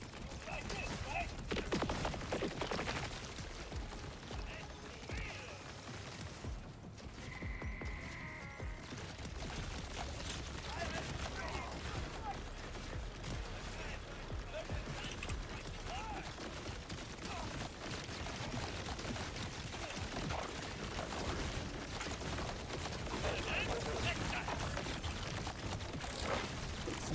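Firing an underbarrel weapon's targeted barrage in a video game produces a dense, continuous clatter of mechanical impacts and bursts over a long stretch, with a voice talking underneath.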